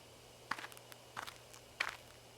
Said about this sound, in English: I hear footsteps again.